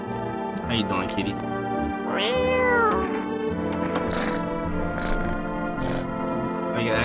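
A cat meows in the horror video game No, I'm Not a Human, giving a clear drawn-out meow with a rising and falling pitch over a steady musical hum, and someone talks alongside it.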